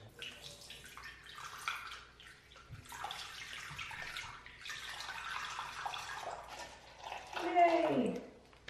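Water running out of an aquarium tank into a drain, a rushing, splashing flow in uneven surges with a gurgle near the end.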